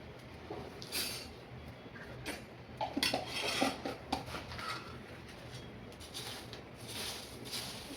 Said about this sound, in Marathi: हा मसाला आपल्याला इथे टाकून मिक्स करायचा थोडं थोडं असं सगळीकडे असं टाकून घ्यायचं आणि चांगलं मिक्स करायचं